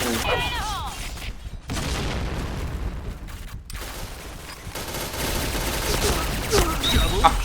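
MP5K gunfire in the shooter game Point Blank, rapid bursts of automatic shots and booms in a busy match, with voices talking over the action.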